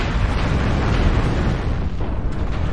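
A loud, sustained rumbling blast fills the moment a target is destroyed in the mech combat game MechWarrior Online, a dense roaring explosion with no break and no talk.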